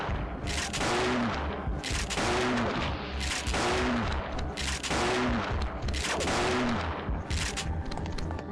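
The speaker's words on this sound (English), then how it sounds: "that shotgun is real nice" Shotgun blasts in the Parasite Eve 2 video game, about seven loud booming shots fired at a steady rhythm roughly a second apart, each with a short ringing tail.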